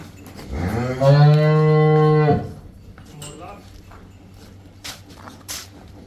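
A buffalo on a dairy farm gives one long, loud, deep low lasting over a second, then the farmyard goes quiet apart from faint shuffling and small knocks.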